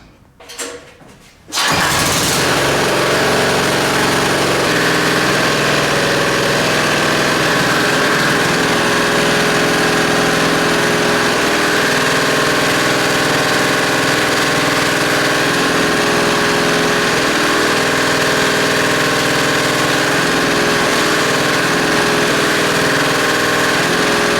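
A diesel engine, freshly swapped into a vehicle, cranks briefly and fires up, then settles into a loud, steady idle that rumbles continuously up close for over twenty seconds with no voices.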